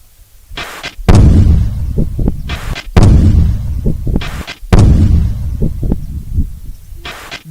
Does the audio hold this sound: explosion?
yes